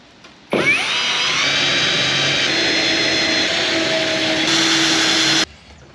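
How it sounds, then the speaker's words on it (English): A power drill bores holes in a Firebird's deck lid with a loud, close, continuous high whine that starts abruptly and holds steady for about five seconds before stopping, no talking. "Okay, holes are drilled"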